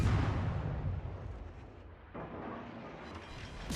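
Heavy naval gunfire from warships in World of Warships, including a Soviet Gremyashchy destroyer under fire, booms low and rumbling at the start, then a second deep report follows and fades into a dull roar.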